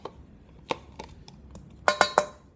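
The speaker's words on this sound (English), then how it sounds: "I'm just gonna stir it up one more time" A spoon stirs an apple crisp mixture in a crockpot, giving a few scattered scraping knocks followed by three quick, brighter clinks of utensil on the dish.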